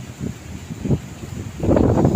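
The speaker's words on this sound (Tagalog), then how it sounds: "sobrang mahangin ang sarap-sarap man hangin" Strong gusts on a 45-floor high-rise rooftop buffet the microphone in low, rumbling bursts, building to a sustained roar near the end.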